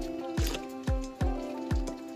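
Water being drawn by hand from a natural source out in the wild, with four regular squishing gulps and splashes about half a second apart, fairly faint and close.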